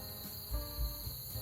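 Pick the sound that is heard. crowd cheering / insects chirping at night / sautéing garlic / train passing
insects chirping at night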